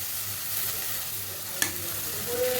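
Dried fish and potato curry with bay leaf and cardamom simmers in a pan just after water is added, giving a steady close sizzle and bubbling hiss with a brief stir clink, and no talking.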